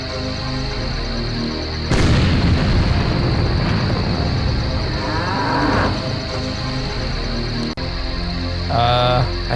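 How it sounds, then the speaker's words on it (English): A cannon fires in the video game The Journeyman Project 2, a sudden heavy boom followed by rumbling decay, with cow moos sounding before and after the blast and a second sharp hit near the end. "I think we might just have fired a cannon and upset a cow."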